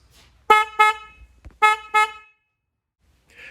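An upgraded aftermarket horn on a 2023 Honda CR-V blares in two quick double honks, loud, bright and sharp, separated by a short pause, with silence afterward.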